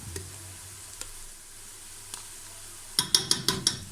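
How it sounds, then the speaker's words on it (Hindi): Chopped onions frying in a pan until golden brown, a soft steady sizzle with a few faint taps, then a cluster of sharp utensil clinks against the pan near the end. "इसको हम इतना भूनेंगे कि इसका गोल्डन ब्राउन सा कलर आ जाए।"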